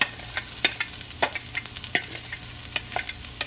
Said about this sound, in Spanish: Aquí tengo ya la olla con aceite. Vamos a sazonar la cebolla con el apio.